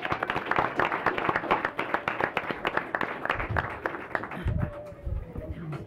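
A round of applause for Dullahan Elementary School students at a school board of education meeting, brisk clapping from a modest audience that thins and tapers toward the end.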